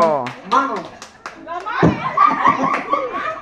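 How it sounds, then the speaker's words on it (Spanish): Children at a birthday party game are applauded with a burst of hand clapping, mixed with kids' voices, an adult calling out and some laughter, close and lively. "¡Un aplauso para los niños!"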